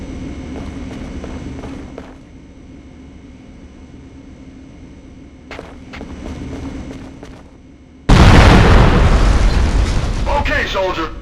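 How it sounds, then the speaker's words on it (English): M67 grenade explosions in the military video game Conflict Desert Storm 2 training range: a muffled blast or two, then a loud, booming detonation that rumbles and decays, with a voice speaking early on. "Use the M67 grenades on the targets and let's see how many you can get"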